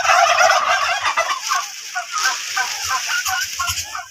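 Turkey cocks gobble in rapid, warbling bursts that overlap and repeat throughout, loud and close, with no talking.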